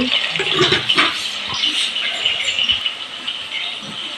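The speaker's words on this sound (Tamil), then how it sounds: "நல்லா கொதிக்குது" Steady bubbling and hissing of a biryani gravy boiling in a pot, a continuous close rolling simmer with no voices.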